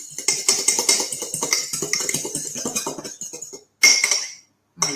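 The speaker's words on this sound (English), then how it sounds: "So just give that a little whisk" An egg is whisked in a bowl for hot cross buns, with quick rhythmic clinks and scrapes close by, a short pause and then a final burst.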